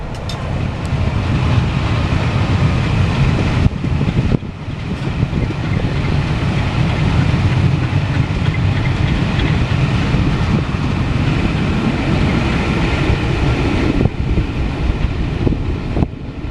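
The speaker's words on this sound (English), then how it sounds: "Oh, we've got another freight there, look." A freight train passes nearby, a continuous loud rumble of rolling wagons with wind buffeting the microphone and a couple of sharp drops where gaps between cars pass.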